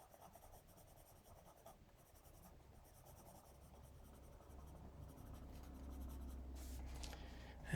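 A colored pencil stipples and scratches across paper during a stamped ice-cave art project, making a soft, steady, close scraping that grows slightly louder toward the end, with no talking.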